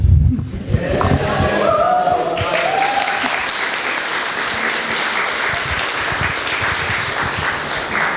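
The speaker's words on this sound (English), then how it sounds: "You're clapping now" An audience at a convention panel breaks into sustained applause, a loud, dense wash of clapping that holds steady for several seconds, with a few tonal notes sounding near the start.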